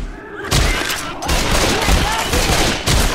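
Dense bursts of gunfire in Left 4 Dead 2 on Xbox 360, loud and close, a rapid fusillade of overlapping shots with a short gap before the firing resumes, while voices call out over it.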